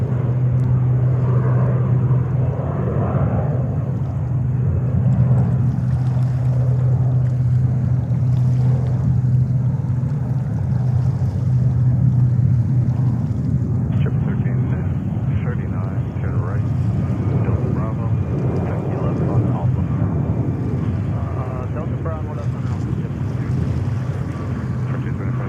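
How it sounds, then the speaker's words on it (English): An Emirates Airbus A380 taxiing toward the runway at JFK gives a loud, sustained low engine rumble with a steady hum, mixed with wind buffeting the microphone the whole time. "Emirates 380. There he goes on the way to runway 13 right."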